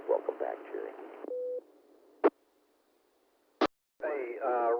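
A two-meter amateur radio repeater on a ham net gives a short, low steady tone right after a transmission cuts off, followed by brief clicks and squelch bursts, then another voice comes in.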